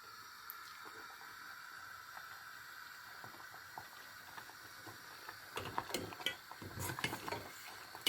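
Ladle stirring sweet sakkarai pongal with cardamom in a pot over the fire, faint bubbling at first, then louder scraping and knocking strokes against the pot toward the end.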